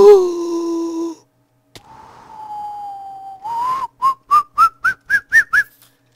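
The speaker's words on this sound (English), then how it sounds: "I didn't know what to do except for whistle" A person whistles up close in a garden, first a held falling note and a long steady tone, then a rising series of seven short, sharp chirps.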